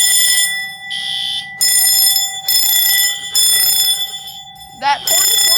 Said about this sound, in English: That horn is working.